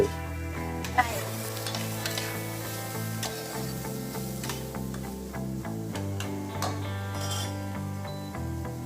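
Egg khichuri frying in a pan gives a constant close sizzle, while a spoon scrapes and stirs through it in repeated rhythmic strokes, with one sharper knock at the start.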